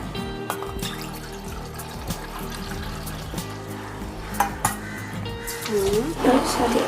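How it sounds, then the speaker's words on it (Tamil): Water pours and trickles into a pot for rasagulla syrup against a low background hum, the splashing growing fuller toward the end. "இதில் 4 கப்பு தண்ணி ஊற்றுங்க"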